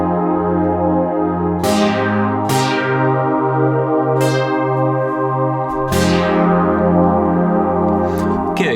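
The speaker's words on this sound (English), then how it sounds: "It's a synth, a Juno type of sound." A Juno-style synthesizer plays a dry MIDI loop without effects: sustained chords repeat in a steady pulse, with bright attacks that decay at intervals. Loud and close, with no talk.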